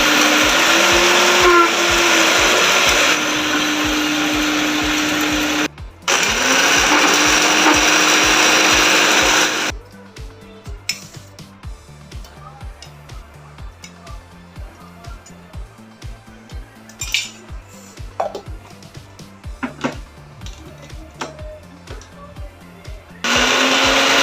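A mixer grinder blends fried onions into paste in loud whirring bursts of several seconds with a brief pause, then stops, leaving quieter clatter and handling sounds.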